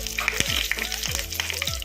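Curry leaves sizzle and crackle in hot oil, with a few sharp clinks of stirring, close and steady.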